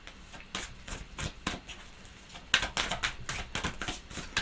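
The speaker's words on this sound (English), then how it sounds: "One more shuffle, please" Tarot cards are shuffled in quick, soft riffling bursts, faint and close, with a slightly louder flurry partway through.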